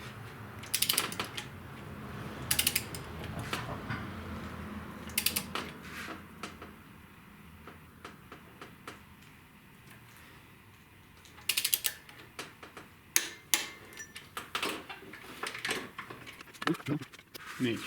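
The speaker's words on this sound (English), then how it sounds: "Make sure you don't rotate the black part of the handle, but just tighten it until it clicks." Torque wrench clicking as head bolts are tightened on a 2006 Subaru Outback SOHC engine, giving sharp, separate mechanical clicks at irregular intervals over a quiet workshop background, close to the microphone and heard without talk over them.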